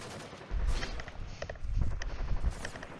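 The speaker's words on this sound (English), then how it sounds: "As that stops, you do hear the gunfire resume." Gunfire effect in a space-themed tabletop campaign, resuming as bursts of rapid shots in clustered volleys with crackling impacts, moderately loud against a busy background.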